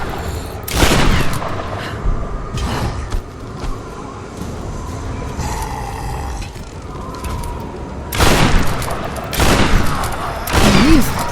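Gunfire in the 2013 Tomb Raider video game: several sharp bursts of shots ring out at intervals over game ambience, loud and close, with quieter stretches between.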